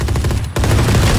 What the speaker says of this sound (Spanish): Llegan disparando a la loca